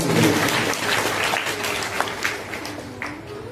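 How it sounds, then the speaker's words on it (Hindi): Audience applause at a Hindu religious discourse, a dense wash of many hands clapping together, loud and sustained before gradually thinning out, with scattered individual claps near the end. "ताली बजा दी करो, हमें हौसला होता है।"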